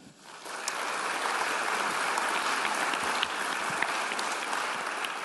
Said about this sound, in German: Und Applaus für die beiden, Sie haben das Wort.